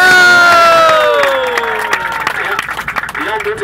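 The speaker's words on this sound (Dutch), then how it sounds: "wil ik even een groot applaus voor hem" Passengers on a volunteer-run museum bus applaud and cheer for the driver, a loud burst of clapping and shouting that fades over a few seconds while voices continue.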